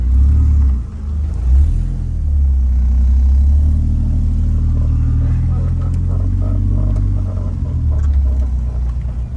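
A 2JZ-swapped Jeep Cherokee engine idles in first gear with a deep, steady, rumbling low drone and slight rises in revs, loud and close throughout.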